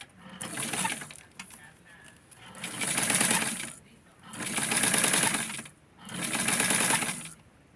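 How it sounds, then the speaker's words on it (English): A sewing machine stitches felt pieces, whirring close up in three long, even runs with short pauses, while a person talks alongside it. "I'm going to get it close so that you can see the sewing"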